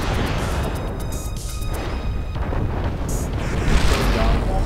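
Mech weapons pound an Awesome mech in MechWarrior Living Legends, a loud, continuous barrage of booming fire and rumbling impacts with a sharper burst near the end, players' voices faintly mixed in.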